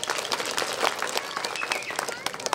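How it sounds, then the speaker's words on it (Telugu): Audience applause at an election campaign rally, a dense burst of clapping from a crowd that carries on steadily for a couple of seconds, fairly close and lively. "మీరు గట్టిగా చప్పట్లు కొడితే ఆయన విన్నట్టు"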